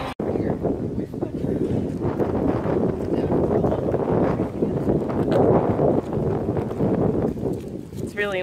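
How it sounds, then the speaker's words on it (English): Strong gusts buffet a microphone outdoors, a constant low rumble and roar filling the whole stretch at close range with little letup, while people talk and move around under it. "It's really windy though. It's probably gonna F up my audio."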